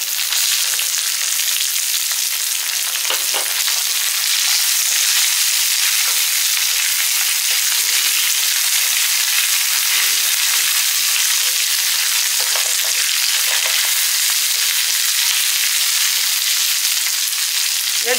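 Shallots, garlic and curry leaves fry in a pan for an eggplant dish, giving a steady, loud, close sizzle with occasional stirring scrapes throughout, and no voices.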